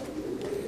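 A low, steady cooing of pigeons fills the brief moment, several birds murmuring together close by without pause.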